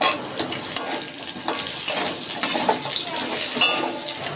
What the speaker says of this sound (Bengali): আমি আলুটা একটু ভেজে তুলে নিচ্ছি